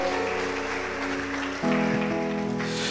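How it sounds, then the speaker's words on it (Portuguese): Steady broadband clapping from a large church congregation, loud and continuous, with sustained organ or keyboard tones playing underneath. "Pode aplaudir com força, sem medo."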